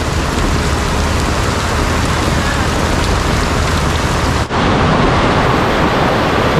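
Heavy storm rain pours down in Mumbai and Thane in a dense, continuous roar, blending with the rush of flowing water; no voices are heard.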